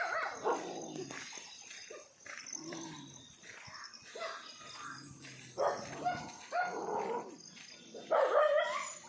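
Several dogs bark, yip and whimper nearby in short irregular bursts outdoors, with one female dog among a group of males; no talking is heard.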